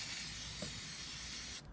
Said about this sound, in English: now we're gonna spray on some battery sealant